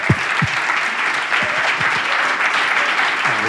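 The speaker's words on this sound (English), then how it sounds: "Can I have a massive round of applause for Gergely," A conference audience at a fireside chat breaks into loud, sustained applause, a dense wash of clapping with a few faint low voices mixed in.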